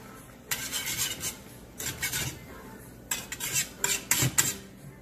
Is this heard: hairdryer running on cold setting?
no